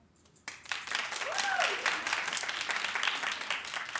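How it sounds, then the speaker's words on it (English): Studio audience at a daytime talk show breaking into clapping after a brief quiet start, a full steady burst of applause that holds to the end with a faint voice briefly audible. "Clap if you think that Demi is good with her own company in your head"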